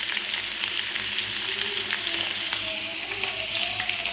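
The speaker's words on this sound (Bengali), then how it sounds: "আলু দিয়ে মাছ করব, এই জন্য আলুটাকে বেশ লাল লাল করে ভেজে নেব।" Potatoes frying in hot oil for a fish-and-potato dish, giving a steady, dense sizzle that runs unbroken throughout at close range, with no voices.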